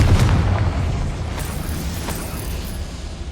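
A Confringo blasting spell explodes in Hogwarts Legacy, a loud, deep boom that opens strongly and rolls off into a long rumbling decay.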